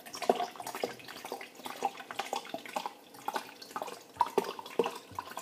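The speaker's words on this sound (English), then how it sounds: "I'm going to take your cold water and just pour it in." Cold water is poured into lemonade, giving soft splashing and trickling with scattered light clinks and drips at a close, moderate level. No voices are heard.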